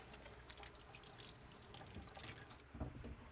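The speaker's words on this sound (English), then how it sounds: "Wash my hands again because I touched that bacon." Tap water runs into a kitchen sink as hands are washed, a steady close splashing stream that swells and breaks up briefly near the end.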